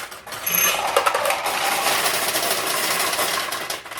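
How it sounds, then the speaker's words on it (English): A steady mechanical whirring and rattling of pachinko balls rushing from the hopper into the middle hopper of a restored 1972 Nishijin Model A pachinko machine, continuing throughout at close range. "That noise you just heard is more balls from the hopper going into the middle hopper."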